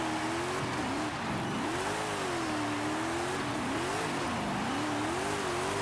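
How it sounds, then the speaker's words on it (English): A car in the Forza video game does a sustained burnout in fifth gear, with a loud engine wavering up and down in pitch over constant roaring tire noise and no talking. "I'm doing a burnout in 5th."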